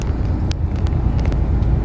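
Dense road traffic stuck in a jam near Lohia Nagar, heard from inside a CNG cab: a steady, close low engine rumble with a few brief high horn-like toots over it.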